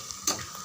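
Yogurt being stirred into frying masala for chicken biryani gives a soft, steady sizzle with one brief louder scrape of stirring near the start, close and quiet.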